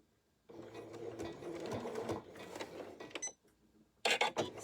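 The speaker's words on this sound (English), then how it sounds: "Set my stitches, back stitch, and just following along" Close sewing machine stitching a gusset onto a tank top, one steady run of rapid mechanical whirring that stops briefly, then a sharp burst of clicks and handling at the end.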